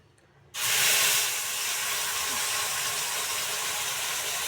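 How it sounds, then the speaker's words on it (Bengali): Ground spices, onion and ginger paste hitting a hot pan in a home kitchen, a sudden loud sizzle that bursts in and settles into a steady, close hiss. "ওই যে আমার মশলা ভাজা হয়ে গেছে"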